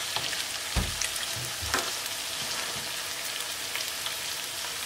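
Tuna steaks sear in a hot pan after being flipped, with a dense, constant sizzle and a few low knocks and scrapes from the pan being handled.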